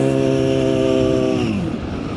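A liter-class sport motorcycle cruises on a night ride, its engine a steady, close humming drone that eases off partway through as the revs drop.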